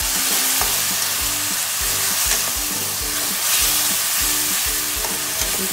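Tomato paste sautéing in hot oil for palak paneer, a loud, dense close sizzle with a steady rhythmic stirring pulse running throughout, no voices.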